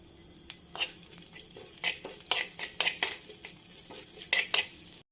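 Curry leaves sizzle in a pan of fish curry as a spoon stirs them, giving irregular scraping clatters over a steady frying hiss, close and fairly quiet.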